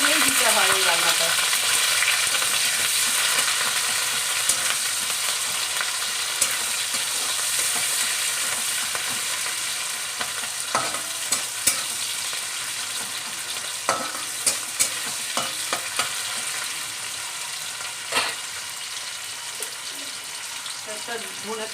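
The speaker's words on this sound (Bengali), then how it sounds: "তেলের মধ্যে আমি কালো জিরে ফোড়ন দিয়েছি, এবার দেবো পেঁয়াজ, দেবো কাঁচা লঙ্কা" Onion and green chillies fry in hot oil tempered with nigella seeds for a fish dish, giving a steady, close sizzle with occasional stirring scrapes throughout.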